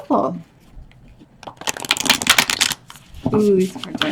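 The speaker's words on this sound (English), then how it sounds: "Let's shuffle." A deck of oracle cards is shuffled in a quick riffling burst of crisp flicks, with a voice speaking briefly before and after.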